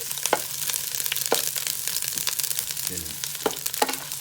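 Onions sauté in a Power XL cooker, with a steady close sizzle and light stirring clicks throughout; a brief word is spoken.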